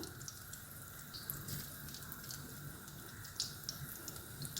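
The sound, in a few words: vada batter frying in hot oil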